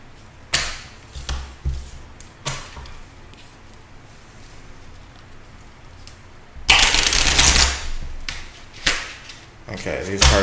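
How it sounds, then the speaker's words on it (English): Moonology oracle cards riffle and snap in scattered bursts, with a louder sustained shuffle midway, close up. "these cards don't want to shuffle like that, so I'm going to shuffle them like this"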